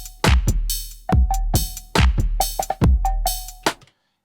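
Sliced sample loop played back on a Tasty Chips GR-MEGA granular synthesizer: punchy, chopped percussive hits with tonal blips in a choppy, syncopated rhythm, loud and close, ending abruptly in silence.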